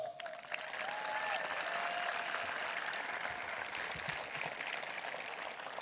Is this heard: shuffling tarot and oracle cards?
no